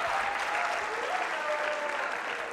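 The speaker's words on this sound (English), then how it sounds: "Let's give both of them a huge, huge round of applause." A school assembly audience gives two students a loud, dense round of applause, sustained and even throughout, with a few voices faintly mixed in.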